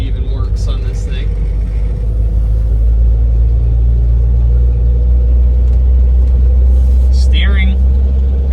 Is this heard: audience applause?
no